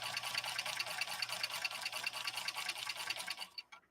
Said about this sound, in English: Listen to this and see if you agree as we start up on our second stitch line here.